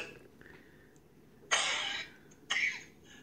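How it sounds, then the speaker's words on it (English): Two sharp coughs about a second apart, fairly close, over a quiet background hiss with no talking. "I have to mute and everything because I'm coughing so much."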